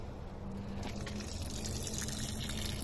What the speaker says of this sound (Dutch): En dan heb ik een flesje water en die ga ik hier in de regengoot gooien